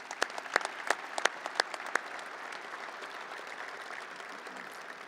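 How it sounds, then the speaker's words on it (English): Crowd applause at the opening ceremony for the NDSU Nodak Insurance Company Football Performance Complex, with several sharp nearby claps early on over a sustained, even wash of distant clapping. "Please join me in a round of applause and thanks for these instrumental people."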